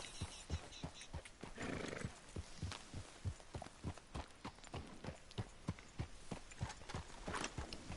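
Horse hooves in Red Dead Redemption 2 clip-clop in a steady walking rhythm, close and clear, with a short whinny partway through and no talking.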